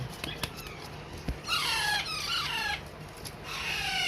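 Alexandrine parakeets kept for sale give out a few short squeaks, then a run of loud, harsh, rising squawks that come in bursts at close range.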